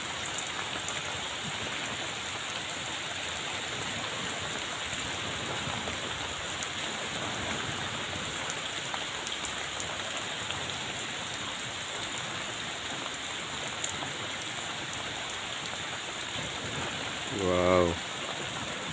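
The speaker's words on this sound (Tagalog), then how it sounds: "Sa lakas ng ulan" Heavy rain pours down steadily outdoors, a dense, even hiss of water striking surfaces that holds at a constant level throughout, with a brief louder patter or knock near the end.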